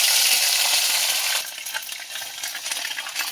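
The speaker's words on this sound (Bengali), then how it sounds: "এবার তেলের মধ্যে একটু কালো জিরে দিয়ে দেবো, একটু আদা বাটা দিয়ে দেবো" Black cumin seeds and ginger paste hit hot frying oil left from fish frying, giving a loud, steady broadband sizzle that drops sharply partway through and settles into a softer, crackling fry.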